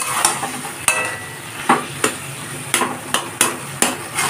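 Pumpkin mash being stirred in a pan over a high flame, with repeated sharp scraping knocks of a spoon against the pan over a steady background hiss.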